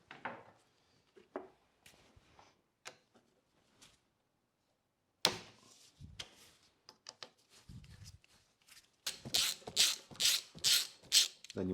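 A ratchet loosens the brake caliper mounting bolts on a bike in scattered clicks and short clattering taps, followed by a livelier run of rapid ratcheting near the end, close and fairly faint.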